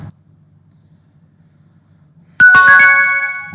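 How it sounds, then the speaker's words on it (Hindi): After logging into inventory management software on a computer, a single bright notification chime sounds loudly out of near silence and rings on, slowly fading. "एक नोटिफिकेशन भी आ गया"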